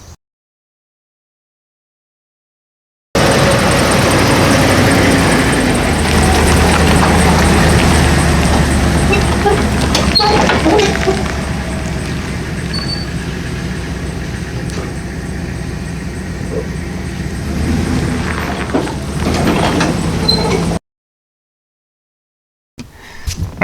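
A van towing a trailer rumbles along the road with a steady low engine drone and road noise heard from inside the cab. Silence comes before and after.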